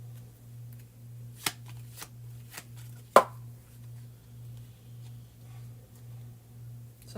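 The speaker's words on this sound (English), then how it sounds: "So I'm just shuffling like this." Tarot cards are shuffled by hand in a quiet room, a few sparse riffles and soft slaps spaced out over several seconds against a low steady electrical hum.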